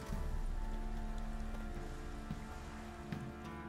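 Rain pours outside in the game The Witcher 3, a steady hiss of drops on surfaces with low rumbling underneath, fairly loud and continuous and without voices.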